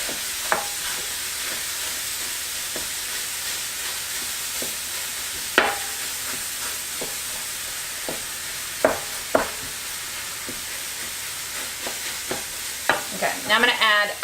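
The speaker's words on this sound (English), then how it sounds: "I'm going to break up the turkey." Ground turkey browns in an electric skillet set to 375 degrees, giving a steady sizzle broken by repeated sharp scrapes and taps as a utensil chops up the meat, with the busiest bursts toward the end and no talk.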